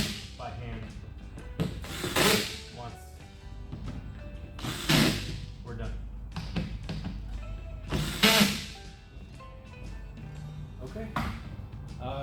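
Hardware fasteners on a Leitner GearPOD XL Gen 2 rack being snugged up by hand after low-torque driving, giving intermittent ratcheting clicks and metallic mechanism bursts at close range, with someone talking over parts of it.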